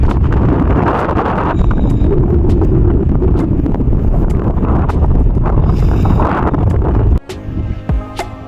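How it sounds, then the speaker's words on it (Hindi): Strong mountain wind buffets the microphone at Mana village in Uttarakhand's high Himalaya, a loud continuous roar with gusty rumbling that drops away abruptly near the end, leaving quieter fluttering bursts. "हवा चल रही है बहुत तेज।"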